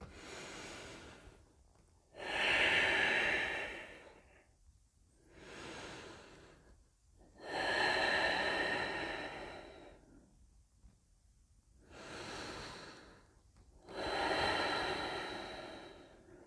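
Deep, slow breaths during a yoga pose: long rushing inhales and exhales alternate in a steady rhythm, three strong breaths standing out with softer ones between, close and fairly quiet with no talking.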